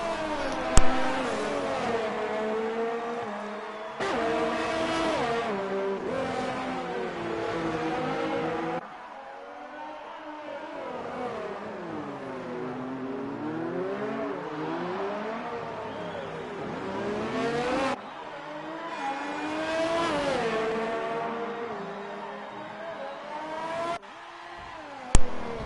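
Onboard Formula 1 race car engine from the F1 2019 game at Monaco, revving hard with rising and falling pitch as it accelerates and shifts, loud and continuous through the whole stretch.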